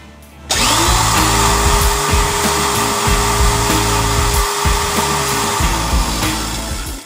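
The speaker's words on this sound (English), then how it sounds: "I took my old Craftsman 3/8 drill," An old Craftsman 3/8 drill, chucked onto the blade mount of a cordless lawnmower motor, kicks on abruptly and whines loudly at a steady pitch for several seconds, with a rising tone as the motor spins up, then slowly winds down.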